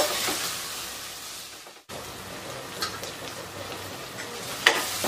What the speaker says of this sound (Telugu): పుదీనా యాడ్ చేసుకుంటున్నాం, కొంచెం కరివేపాకు కూడా. నేను బాగా మిక్స్ చేసేసుకుంటున్నాను అనమాట.